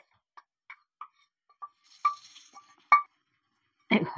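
Curry leaves dry-roast in a pan for podi, stirred with a spoon that gives sparse, sharp scraping clicks and taps against near silence, with a louder rattling scrape at the end.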